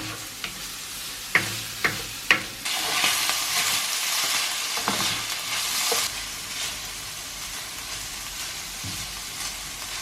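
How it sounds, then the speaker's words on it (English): Garlic and onion fry gently in a pan over low heat, a soft steady sizzle after a few sharp clicks and taps of a utensil at the start, continuing close and even. "a short while over a low heat, just to let the garlic defrost, and the onion to soften."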